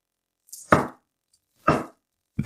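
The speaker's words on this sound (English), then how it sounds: "Chop it finely." A knife finely chops onion on a board in three separate close, crisp bursts spaced about a second apart, with quiet between them.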